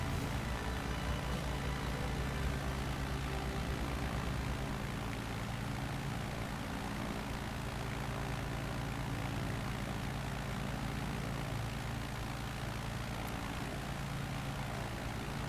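Steady, close drone of a small propeller airplane's engine in flight over Alaska's Inside Passage, a continuous low rumble that holds evenly throughout with no pauses.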